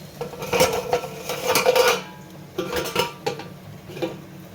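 Pots and dishes clatter and clink in a few bursts as okra curry is transferred to a pot, a metal lid set down with a clank, then quieter scrapes and knocks.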